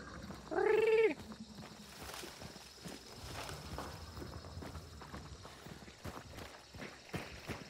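Soft, uneven horse hoof clops from the video game Hunt: Showdown patter steadily in the background, with a brief loud meow-like cry near the start.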